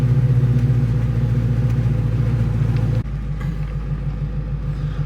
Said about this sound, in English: It has some nice rumble on it. I like the 3-inch exhaust.